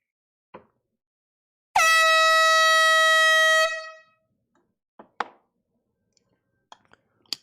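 A single loud, sustained air horn blast lasts about two seconds, bracketed by a few faint clicks and pops in otherwise quiet surroundings.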